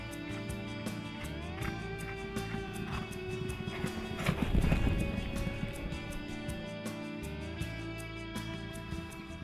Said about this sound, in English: that's why they're cantering single file